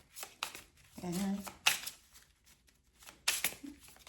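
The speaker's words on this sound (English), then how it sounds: "A shuffle." Tarot cards shuffled in a few quick riffling bursts, crisp papery flutters spaced with short pauses, close and moderately loud, with a person speaking briefly between them.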